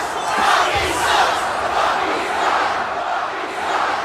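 A dense wrestling arena crowd roars in a steady, loud wash of massed voices, with chanting and jeering swelling and fading over a few seconds.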